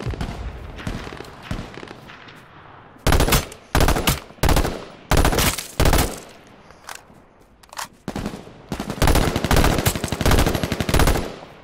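Rapid bursts of automatic gunfire from the battle royale game H1Z1 come in loud clustered volleys with short gaps between them, dense and close, with no talk over them.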